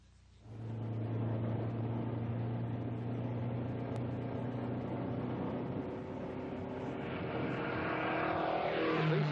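A 1962 Ford Mustang I prototype running in testing, its engine starting up and holding a steady, loud drone with a strong low hum, then building slightly toward the end.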